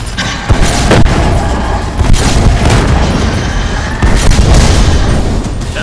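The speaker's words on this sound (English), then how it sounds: "This shredder gun will help peel off some extra scrap from those tubes." Heavy gunfire from the shredder gun on a mech in the Xbox game Iron Brigade, loud continuous rapid booming bursts that fill the whole stretch with dense blasts and no voices.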